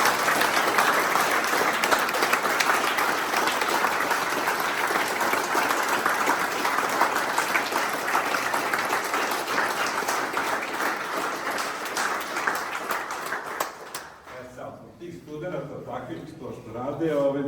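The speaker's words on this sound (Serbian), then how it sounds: "jedan veliki aplauz za studenta" An audience at a graphic design retrospective applauds a student, loud sustained clapping from a full room for about fourteen seconds before it stops and a speaker talks.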